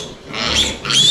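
Young piglets on a farm give two close, loud squealing grunts in quick succession. There is no talk over them.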